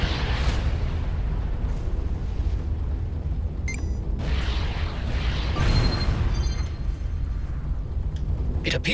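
Missile explosions in the space-combat game Everspace: a dense, loud roar of booms and bursts with sharp metallic crackles and pops scattered through, sustained throughout with no voices.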